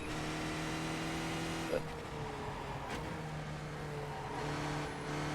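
A Skip Barber race car in the iRacing game at Suzuka holds a steady engine drone, with a quick downshift blip and a couple of gear changes that shift the pitch; the engine runs alone without voices.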